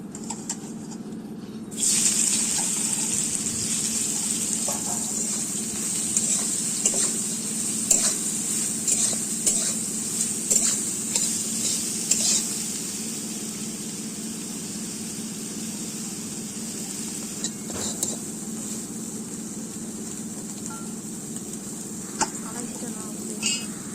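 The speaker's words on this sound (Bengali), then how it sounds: "মাখিয়ে নেওয়ার পর আমি কড়াইয়ে তেলে এগুলো ভেজে নেব।" Soaked soybean chunks coated in turmeric and salt fry in hot oil in a kadai, giving a steady, close sizzle with occasional crackles and stirring scrapes.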